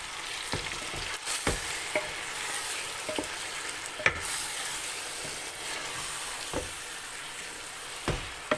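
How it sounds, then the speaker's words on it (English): Big chicken pieces fry in pulao masala with a soft continuous sizzle and crackle, interrupted by occasional sharp clicks and scrapes of a spoon against the pot, with no talking. "Add all the chicken pieces to here."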